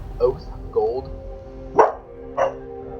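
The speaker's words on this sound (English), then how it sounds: "Sorry about that. It's my dog." A dog barks indoors, giving four short, sharp barks spaced unevenly over a few seconds, close and fairly loud, over a low steady background hum.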